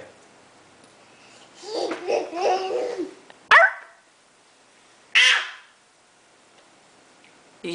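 A young girl makes playful barking-dog imitations at a dinner table: a short run of babbling yips followed by two sharp, loud bark-like bursts spaced apart, close to the microphone.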